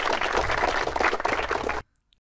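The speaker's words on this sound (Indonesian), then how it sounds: "Tepuk tangan ya." A group claps loudly and continuously in dense, steady applause at a gathering for students. The clapping cuts off abruptly after about two seconds, leaving near silence.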